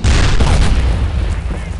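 Gunfire and booming explosions in the World War II shooter Brothers in Arms: Earned in Blood, a loud, continuous battle din of overlapping shots and low rumbling blasts.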